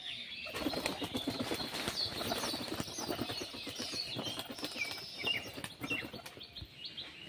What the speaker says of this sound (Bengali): পায়রা দেখুন, পায়রা ছাড়ছে আপনাদের সামনে।